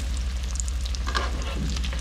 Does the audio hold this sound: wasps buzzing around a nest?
no